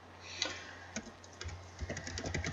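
Typing on a computer keyboard while playing a Minecraft prison server, a steady run of quiet, close key clicks, sparse at first and then quicker and denser, with a few louder taps.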